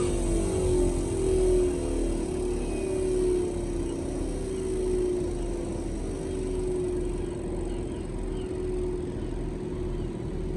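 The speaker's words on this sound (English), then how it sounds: "That compressor does not sound good at all." Faulty Daikin air conditioning compressor running with a continuous, fairly faint mechanical drone and a steady hum that drifts slightly in pitch, no talk.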